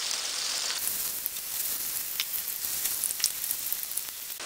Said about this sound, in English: I have some canola oil in the skillet, and I'm going to add my mixture.